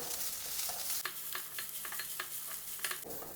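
Grated coconut being stirred into banana flower thoran in a pan: a soft sizzle with a rhythmic series of scraping spoon strokes, close and fairly quiet.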